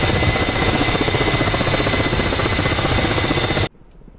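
Helicopter in the combat flight simulator DCS World, a loud continuous rotor and turbine roar with a fast steady chop, holding level before cutting off abruptly near the end.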